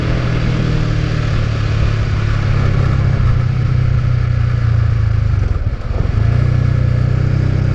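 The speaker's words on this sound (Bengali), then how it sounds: "এখন ইঞ্জিন ব্রেক ছাড়া নামার কোনো উপায় নাই" Motorcycle engine braking down a steep, rough mountain road on the way to Keokradong, a steady mid-pitched engine drone with clatter, close and loud, briefly dipping before resuming.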